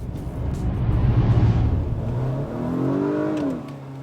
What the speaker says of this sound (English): The result is smooth, effortless acceleration